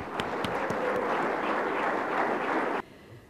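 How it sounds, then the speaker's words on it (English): Audience applause at the Dunia Young Business Leaders Program 2013 convocation, a dense, steady roar of many hands clapping together that cuts off abruptly near the end, leaving quiet room tone. "A big round of applause for all of you."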